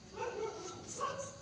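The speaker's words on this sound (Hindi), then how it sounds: "कुत्ते बहुत भौंक रहे हैं, मैं मंदिर में।" Dogs barking near a temple, heard as a few faint, distant yips and barks over a hazy background murmur.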